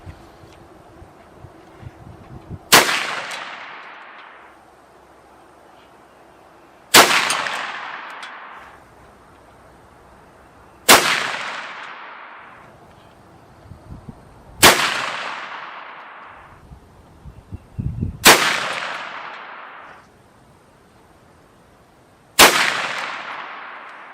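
Six shotgun blasts of buckshot fired at a 100-yard target, each a sharp loud report with a long echoing decay outdoors, spaced about four seconds apart with quiet between.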